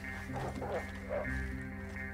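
A dog in the video game Red Dead Redemption 2 gives a few quiet, yipping barks over a low, steady game backdrop.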